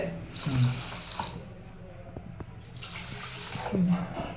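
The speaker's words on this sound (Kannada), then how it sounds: "ಸ್ವಲ್ಪ ನೀರು ಹಾಕ್ತೀನಿ" Water runs from a tap in two short bursts onto sugar, near and moderately loud, with a quiet pause between them and faint kitchen clatter.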